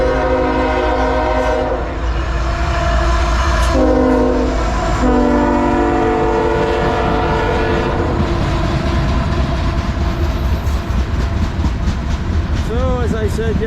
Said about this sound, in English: We got a westbound CSX freight coming through. I apologize ahead of time for the whistle.